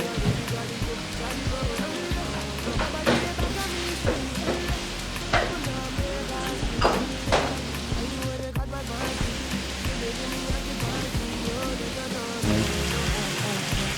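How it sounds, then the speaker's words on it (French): Vegetables simmer in a pot for a chicken and vegetable dish, giving a steady, close bubbling sizzle with scattered clinks and stirring scrapes that runs unbroken throughout. "Nous allons laisser mijoter nos légumes pendant 10 minutes."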